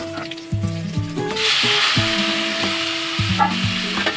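Fish head and pumpkin mixture frying in a kadai, with a loud hiss that swells partway through over rhythmic, clattering metal scrapes and knocks.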